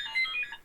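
A mobile phone ringtone sounds briefly, a short burst of bright electronic melodic tones at moderate volume.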